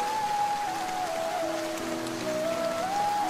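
Rain pouring down in a Bengali fairy-tale cartoon: a continuous, even hiss of rainfall under a sustained melodic musical tone, with no speech.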